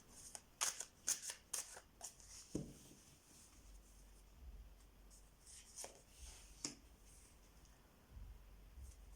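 Tarot cards being shuffled close by, a quick cluster of riffling snaps followed by scattered softer card taps and slides in a quiet room.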